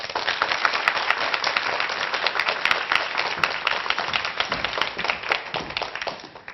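A studio audience bursts into dense, continuous applause that stays strong and even for several seconds and thins slightly at the very end, with no talking.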